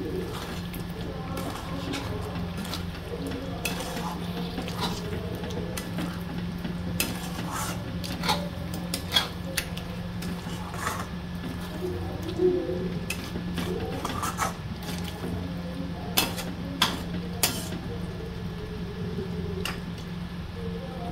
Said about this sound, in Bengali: এবার আমি মশলার সঙ্গে ডিমগুলো ভালো করে কষিয়ে নেব।